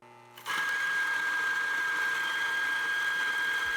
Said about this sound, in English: this grinder has the most pleasing sound of the 3 when grinding